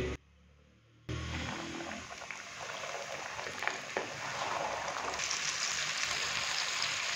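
Chicken tenders coated for extra crispy frying drop into hot oil, setting off a loud, steady, broadband sizzle that fills the clip after a brief quiet start and keeps bubbling continuously.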